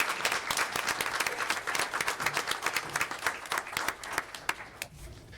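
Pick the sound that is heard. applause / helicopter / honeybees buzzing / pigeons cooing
applause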